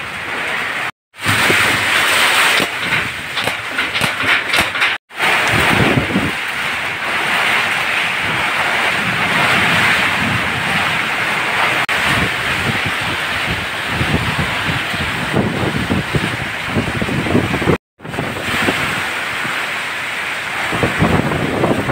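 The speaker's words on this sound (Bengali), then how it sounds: "প্রচুর বাতাস আর বৃষ্টি।" A strong Kalbaishakhi storm with heavy wind and pouring rain, a dense, loud, continuous roar of rain and gusting wind buffeting the microphone, broken by a few brief dropouts.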